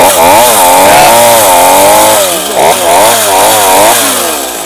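A loud chainsaw roars close by, its engine pitch rising and dipping repeatedly as it bites into wood.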